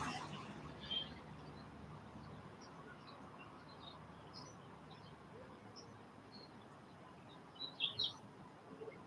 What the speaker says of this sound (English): There's a lot of beautiful birds in the yard. Hope you can hear.